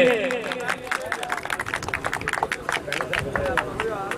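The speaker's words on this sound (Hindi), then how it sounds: "तालियां जी, तालियां इस बच्चे के लिए।" Applause for a student at a college boys' annual sports festival prize ceremony: a crowd claps in a rapid, irregular patter throughout, with voices over it.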